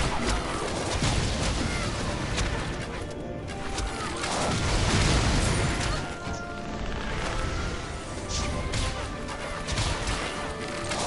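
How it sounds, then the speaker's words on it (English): Explosions and crashing impacts from the tower-defense video game Dungeon Defenders II, a dense, continuous barrage of bursts and whacks at moderate level with no clear pauses. "Explosions."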